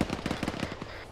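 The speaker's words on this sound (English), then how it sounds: "we still have a lot of fucking infantry fire to our west" Rapid bursts of infantry gunfire in a military video game, a steady crackling rattle of about ten close shots over a second, loud and alone with no talk.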